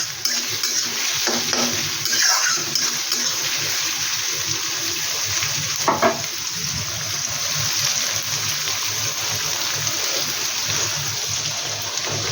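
Onion and garlic frying in a pan, a continuous close sizzle broken by a few louder stirring scrapes, with no speech.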